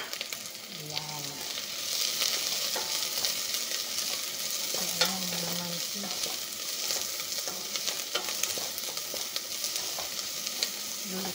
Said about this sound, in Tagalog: Lutuin natin yung sibuyas ng 2 minuto.